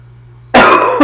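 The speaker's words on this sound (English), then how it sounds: "my kid has a cough and I'm picking it up" A single person coughs twice, close and loud, a harsh burst followed by a shorter second cough after a quiet pause.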